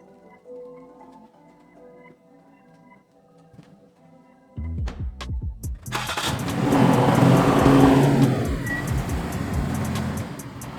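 A turbocharged Toyota FRS fresh from an oil change cranks in a rapid stutter, catches and fires, then settles into a loud, close rumble that swells as the engine revs, with the compartment quiet beforehand and no talk.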